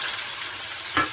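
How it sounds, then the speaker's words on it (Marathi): Onions tipped into hot oil with whole spices (bay leaf, cinnamon, cloves, black pepper) for Bihari chicken sizzle steadily, and a brief clatter of stirring rises near the end. "आता हे कांदे आहेत ते टाकून देऊ आपण."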